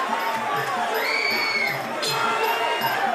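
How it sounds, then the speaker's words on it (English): A boxing crowd at a Warriors Cup bout roars and cheers in a sustained, loud swell, with scattered shouts and whoops rising over the dense arena din. "The crowd loving the action right now"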